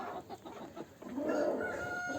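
Wyandotte hens clucking in a henhouse, a few soft, close clucks and calls, fairly quiet, with no one talking.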